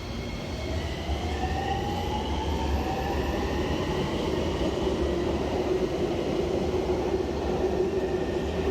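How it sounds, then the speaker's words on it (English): A Miami Metrorail train running steadily on rails past downtown, with a rising electric motor whine over a constant rumbling roar from inside the car. "Let's ride Metro Rail past downtown"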